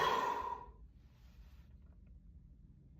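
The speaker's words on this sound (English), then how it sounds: "We breathe." One slow, deliberate breath out during a meditation exercise: a soft, close exhale that fades within a second into quiet room tone.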